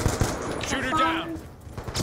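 Rapid bursts of automatic gunfire from the video game Black Ops 2, crackling continuously through the clip under excited shouting from a player, with game sounds layered throughout.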